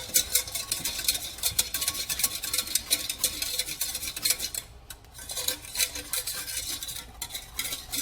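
A utensil stirs a chocolate milk mixture in a hot pan, making steady, close scraping and clinking strokes in a quick, uneven rhythm, with no talking.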